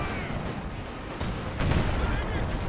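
Artillery fire rumbles through a Company of Heroes 2 match, with dense booming blasts and gunfire under a continuous battle din, growing heavier toward the end.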